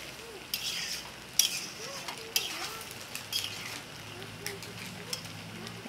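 Potato curry being stirred in a pan, with soft scrapes and occasional light clinks of a spoon over a quiet simmer, and faint voices now and then.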